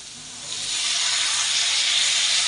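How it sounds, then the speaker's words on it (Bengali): Water poured into a pan of fried soybean masala, bursting into a loud, steady hiss of sizzling steam that swells within the first second and holds strongly to the end. "এবারে আমি জল দিয়ে দিব।"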